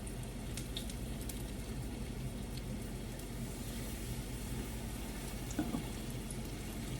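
Battered onion rings frying in hot oil, a steady, fairly quiet sizzle and bubbling that continues evenly throughout with no talking.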